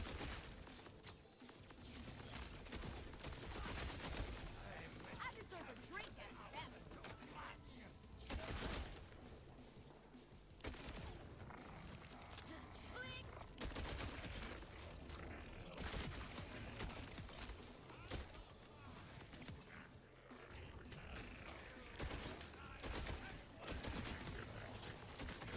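Gunfire in the video game Borderlands 4, sustained automatic bursts and shots running through the whole stretch alongside game music and effects, with a voice talking intermittently over the top.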